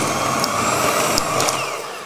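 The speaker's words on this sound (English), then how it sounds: "And I'm just going to quickly whisk it, get it going," Electric hand whisk beating butter and caster sugar for a pineapple upside-down cake batter, a close, continuous whirring motor drone that fades slightly at the end.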